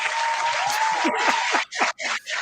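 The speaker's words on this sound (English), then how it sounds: "I think we gave him the applause" An applause sound effect played during a pro wrestling watch-along stream: dense crowd clapping and cheering for about a second and a half, then it breaks up into a few choppy bursts.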